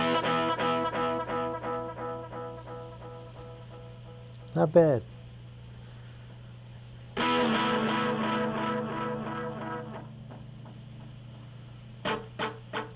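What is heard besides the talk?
Roland Space Echo RE-201 tape echo effect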